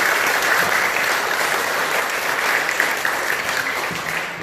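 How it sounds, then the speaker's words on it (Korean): A crowd applauds in a Buddhist temple hall, a dense and even clapping that holds steady and then slowly fades toward the end. "다시 한번 박수 한번 부탁드리겠습니다."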